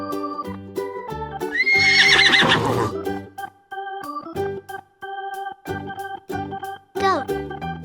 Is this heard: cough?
no